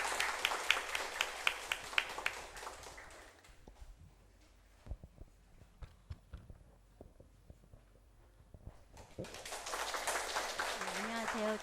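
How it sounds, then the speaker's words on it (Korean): Applause from a church congregation, brief scattered claps under nearby talk near the start, a quieter stretch, then fuller clapping building at the end. "앞으로 나오실 때 격려의 박수 한번."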